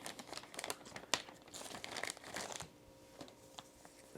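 Paper crinkles and rustles as an instruction booklet and sticker sheet come out of a Transformers G1 Dirge toy box, with one sharp crackle early on, then softer handling that fades toward the end.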